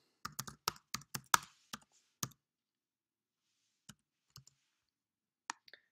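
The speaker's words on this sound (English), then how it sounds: "I'm just double clicking on it and then just deleting the text that's there" A computer mouse and keyboard clatter while text is deleted in Scratch: a quick run of about ten crisp clicks and keystrokes, then a few isolated clicks after a pause, close and clear with no voice.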